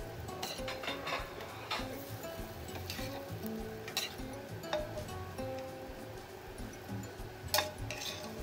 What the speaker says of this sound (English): stir everything properly with tongs